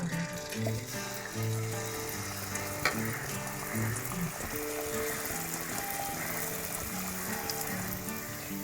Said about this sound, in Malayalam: ഇനി നമുക്ക് പഴം ഒന്ന് ചൂട് എണ്ണയിലോട്ട് ഇട്ട് കൊടുക്കാം.